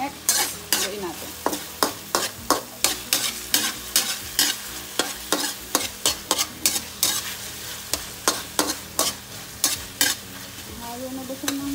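Bitter melon being stir-fried with San Marino corned tuna in a pan, a steady sizzle broken by repeated sharp scraping stirs of the spatula in quick rhythm, close and clear with no talking.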